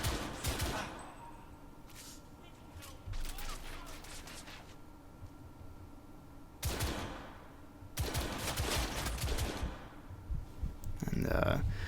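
Bursts of gunfire from The Order: 1886 come in separate loud volleys with quieter gaps between them, set over game ambience, and a voice speaks at points during the fighting.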